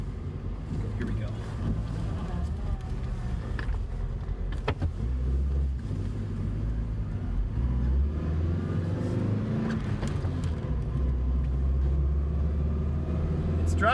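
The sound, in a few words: truck engine running and driving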